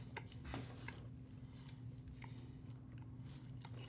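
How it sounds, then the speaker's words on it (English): Close, steady chewing of beef jerky, with repeated soft crunchy and wet mastication sounds in an uneven rhythm over a low background hum. "As you chew it, it loosens up like immediately."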